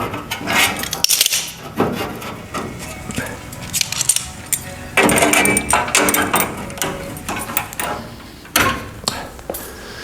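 Metal clamps rattling and clicking as they are fitted onto a custom fender flare for a 1959 Renault, with close, irregular clanks and taps and a few louder knocks in a workshop.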